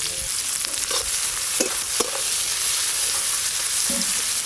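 Chopped onions fry in mustard oil, giving a steady, close hiss with occasional soft clinks and scrapes of stirring.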